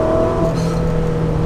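A Ferrari 458 Spider engine hums steadily and close, with tonal drone and a brief shift of pitch as it gets on the throttle gently, no talk over it.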